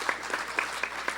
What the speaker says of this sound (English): I think that deserves a very, very big round of applause.